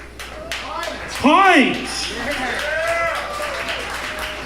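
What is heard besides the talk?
audience applauding comedian Bruce Pych at comedy club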